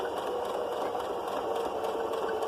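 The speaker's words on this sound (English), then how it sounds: "Now we're going to top stitch it." Sewing machine top stitching along the seam of a fabric face covering, a quiet, continuous rapid whirring hum with fine rhythmic texture and no voices.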